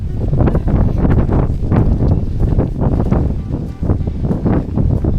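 Strong wind on Lanzarote, Spain, buffets the microphone in continuous loud, rumbling gusts that pulse unevenly, with no clear voices.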